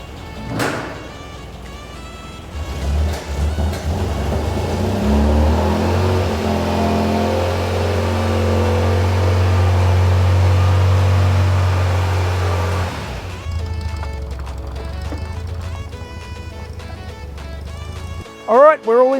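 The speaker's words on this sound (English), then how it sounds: "So now I think it's time to get the car started and move the car into the booth" An MG car engine cranks and catches, then idles and revs steadily as the car drives into a paint booth, loud and close, fading out near the end before some clatter.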